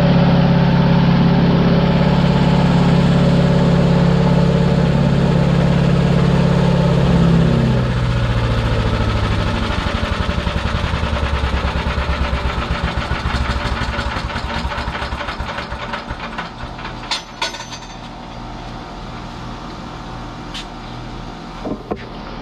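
A Predator 6.5 HP gas engine on a wood chipper runs steadily during break-in with no branches fed, a loud continuous close drone whose pitch shifts partway through, carrying faint rattles and clicks near the end.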